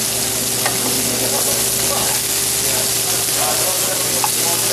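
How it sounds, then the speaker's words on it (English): Green onions and garlic sizzle loudly and steadily in a hot pan alongside sablefish, a dense unbroken hiss heard close up, with faint speech in the background. "I'm going to put in some green onions, scallion."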